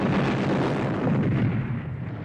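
Napoleonic-era cannon artillery roars at the Battle of Waterloo, a dense, sustained rumble of booming fire that fills the whole stretch and fades slightly at the end, with no talk.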